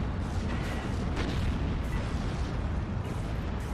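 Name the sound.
Calliope rocket launcher firing in video game Steel Division 2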